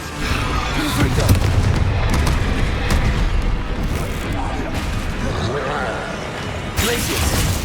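Confringo fire spells burst repeatedly in the video game Hogwarts Legacy, a dense run of booming explosions and crashes layered over game noise.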